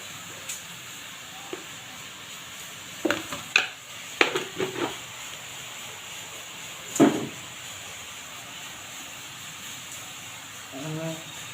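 A spoon stirs tomato bhaji seasoned with chili powder, sugar and salt in a pan, giving scattered metallic clinks and scrapes in short clusters, with a soft sizzle and long quiet gaps between them.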